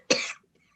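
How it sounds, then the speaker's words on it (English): A single cough bursts out close by in a tense sci-fi radio drama scene, one sharp rasping hack lasting about a quarter second before quiet. "Everyone is coughing."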